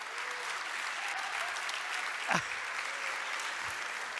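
Steady applause from a church congregation fills the space evenly, a dense wash of clapping with no voices rising above it.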